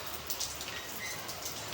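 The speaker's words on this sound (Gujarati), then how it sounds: "જો વરસાદ આવવાનું ચાલુ થઈ ગયો" Rain comes down in a windy storm as a steady hiss, with nearby drops pattering on surfaces and no voices.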